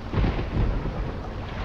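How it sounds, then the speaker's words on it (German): Thunder rumbles with steady rain in the Sago Mini Boats game, two deep low booms early on over a continuous wash of rainfall, fairly loud and with no talking. "Es blitzt und donnert. Und es regnet auch noch."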